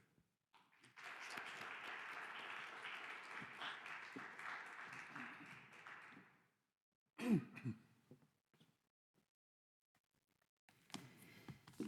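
A lecture audience at an art exhibition talk on Arcadia and the pastoral claps steadily for about five seconds to welcome the speaker, then fades out, followed by brief throat-clearing and rustling near the microphone.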